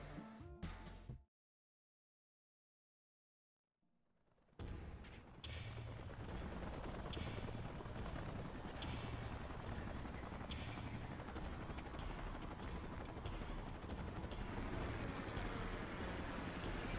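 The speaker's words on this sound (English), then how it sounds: "Let's call in the salvage choppers and get it out of here." Salvage helicopters in the video game Xenoblade Chronicles X arrive after a brief silent gap, their rotor thrum rising into a loud, continuous drone that holds steady for the rest of the scene.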